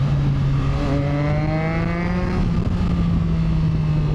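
A Triumph Tiger 660 fitted with a Termignoni exhaust revs loudly up close, its pitch climbing smoothly and then holding at a steady, rasping drone, heard from a helmet-mounted microphone.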